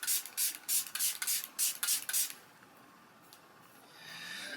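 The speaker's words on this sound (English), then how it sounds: "Let me just give my face a little spray." Several quick hissing pumps of a fine mist spray, about eight short bursts in a row, then quiet rustling.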